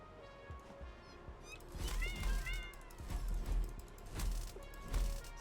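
A cat meows several times in a video game, with rising and falling cries against a busy game soundscape and a streamer talking.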